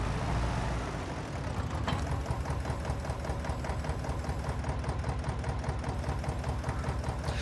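A small, compact, light 1978 tractor idles in a farming video game, its engine giving a steady, even chugging throb with a regular mechanical ticking that holds unchanged throughout.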